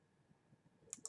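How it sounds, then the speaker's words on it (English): A computer mouse clicks twice in quick succession near the end, crisp and close, as points are marked by hand while tracking a free-fall motion; faint room noise fills the gaps before. "click again, and we'll keep clicking."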